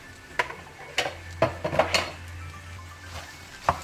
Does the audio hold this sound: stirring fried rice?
yes